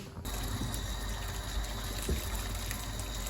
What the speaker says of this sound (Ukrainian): Тепер зливаємо воду.